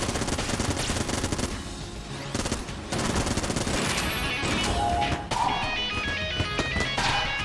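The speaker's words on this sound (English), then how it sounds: "It gave me the Vulcan cannon." A Vulcan cannon fires in the video game Exit the Gungeon, a dense, continuous rapid-fire stream of shots that is loud and sustained, with brief gaps and game effects layered on top.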